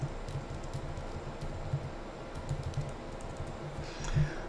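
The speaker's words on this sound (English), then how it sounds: "Type a note and post it" Soft, quick clicking of a computer keyboard as a note is typed, a faint steady patter of keystrokes against low background hiss.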